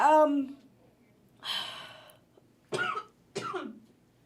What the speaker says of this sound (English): So you're not coughing on public TV and radio.